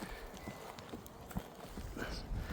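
A horse walks with soft, rhythmic clip-clop hoofbeats, fairly faint and a little distant, while people talk in the background.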